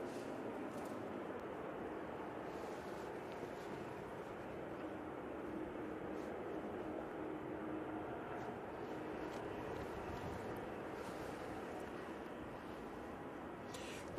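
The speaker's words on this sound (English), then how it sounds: "Ryanair 737-800 now off to Belfast." A Ryanair Boeing 737-800 takes off from Manchester Airport for Belfast, a faint, distant and steady engine rumble holding evenly throughout with faint voices now and then.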